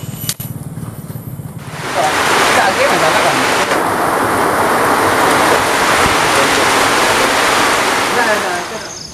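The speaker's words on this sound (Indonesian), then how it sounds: "Tadi kita diguyur hujan lebat ya bang." Heavy rain pours down in a forest during a hunting trip: a steady, dense hiss that swells in after a brief quieter start and holds loud and even until it eases off at the very end.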